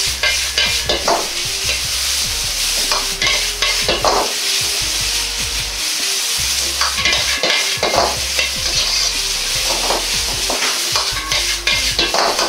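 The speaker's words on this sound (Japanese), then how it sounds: "鍋の温度が熱くなってきたらしっかり混ぜたりして炒めていきます" Continuous sizzling in a hot pan with repeated scraping and clattering of a spatula as bamboo shoots are stir-fried in oil, close and busy, no talking.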